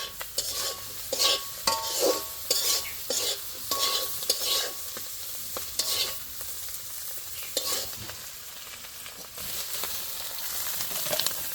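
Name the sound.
fried shrimp being stirred and taken out of the pan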